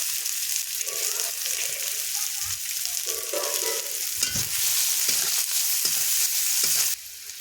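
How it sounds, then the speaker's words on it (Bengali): Onions frying in oil in a pan as part of a gudi snail curry, a steady loud sizzle with scraping stirring strokes throughout, close and alone. "এবার পেঁয়াজটাকে আমি ভালো করে ভেজে নেব"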